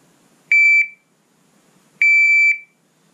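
A Pact III shot timer sounds two sharp electronic beeps, each a short high tone with a brief second chirp, about one and a half seconds apart, loud and clear against near silence.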